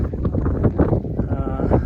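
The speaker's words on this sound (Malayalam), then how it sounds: "നല്ല തണുത്ത കാറ്റുണ്ട്" Cool wind on the Pulmedu hill grassland rushes and buffets against the microphone in a continuous low roar.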